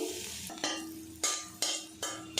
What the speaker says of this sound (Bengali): এদিকে দেখুন কালো জিরে আর রসুনটা কিন্তু ভাজা ভাজা হয়ে গেছে